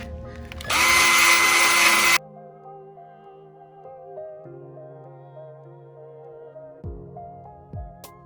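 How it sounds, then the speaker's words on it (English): A small rotary tool with a drill bit buzzes briefly at high pitch for about a second and a half, removing leftover decal residue, then cuts off, leaving a quiet low hum and faint clicks. "Now I'm going to take my little drill bit here and going to get off that shadow"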